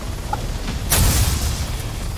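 Gunfire in the military shooter Arma 3 played with a Thrustmaster HOTAS Warthog joystick: a single muffled boom bursts out mid-clip over a steady low rumble of game noise, with no talk.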